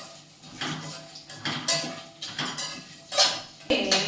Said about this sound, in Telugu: ఇప్పుడు ఇది నెయ్యి హీట్ అయింది కదా, ఇప్పుడు ఇవన్నీ ఒకేసారి దీంట్లో వేసేస్తున్నానండి